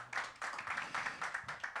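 An audience claps for a musician at an instrumental concert, a modest group of hands beating in a fairly regular rhythm of distinct claps, moderately close and with no talk.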